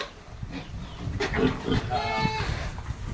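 A Berkshire-native crossbred piglet squeals in a short high-pitched burst near the end, close by. Other farm animal noises and people talking can be heard around it.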